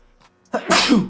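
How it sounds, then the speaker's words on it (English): A single loud sneeze up close, with a short sharp intake of breath just before it. "I had to sneeze there, as you can tell."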